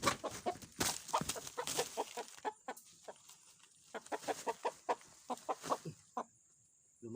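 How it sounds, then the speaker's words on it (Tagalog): Chickens clucking repeatedly in short, irregular bursts, fairly close, with a steady high hiss in the background and no talking. "Lumabas ang manok."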